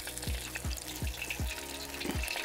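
Battered walleye frying in hot oil gives a steady, close sizzle with a regular series of soft low thumps and crackles running underneath.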